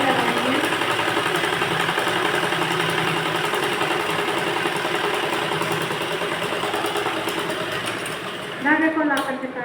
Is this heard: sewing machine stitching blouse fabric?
yes